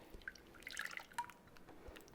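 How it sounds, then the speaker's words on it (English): Melted butter poured from one container into a fresh mixing bowl while making cookies, giving a few soft, quiet drips and a brief liquid trickle, close and faint, with no talking. "We're going to pour our melted butter in a new bowl."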